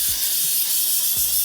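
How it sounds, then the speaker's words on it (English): An aerosol spray can hisses over a drawing in one continuous loud close burst, steady and unbroken, with a couple of low thumps beneath. "I'm going to give it one last spray."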